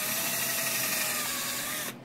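Power drill boring a 3/32 hole through a plastic drive pulley for a Spyker KAT 2X chassis build: a steady, close whirring grind that holds for about two seconds, then cuts off abruptly.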